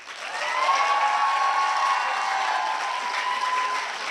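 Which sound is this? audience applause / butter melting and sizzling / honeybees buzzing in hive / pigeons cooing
audience applause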